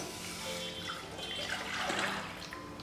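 Second-extract coconut milk poured into a pan for coconut milk kolukattai, giving a steady close liquid splash and trickle that runs continuously for a few seconds with no talk.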